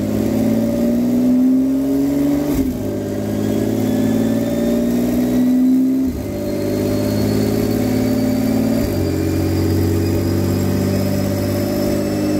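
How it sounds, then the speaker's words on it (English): A Porsche 911 GT2 RS engine revs hard on a dyno, rising in pitch through repeated pulls with sharp breaks at gear changes, loud and close, with a high turbo whine above the roar. "Porsche 911 GT2 RS."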